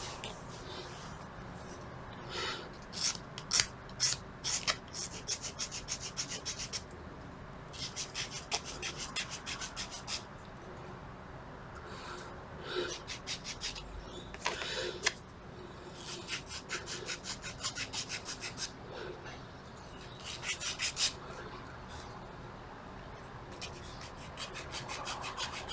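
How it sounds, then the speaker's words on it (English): A file rasps and sanding strokes rub against the wooden keel frame of a Vanguard Models Brig Adder model ship. The scraping comes in bursts of quick close strokes with short pauses between them, and no one speaks. "we'll just give that a little bit of a sand. I'll just find my file."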